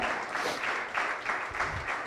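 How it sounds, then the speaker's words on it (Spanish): A church congregation applauds continuously and fairly loud, a dense wash of many hands clapping that swells in uneven waves from start to finish. "¿Cuántos aplauden al Señor de gloria?"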